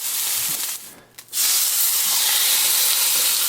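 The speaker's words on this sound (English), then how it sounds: "Sear it on all ends." Stuffed venison backstrap searing hard in a hot pan, its ends pressed against the pan edges: a loud, steady steam-and-sizzle hiss that dips briefly, then returns full and continuous.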